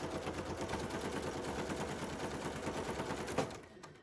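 A sewing machine stitches quilt-as-you-go sashing in a rapid, steady run of needle strokes that stops abruptly near the end, with a faint click after.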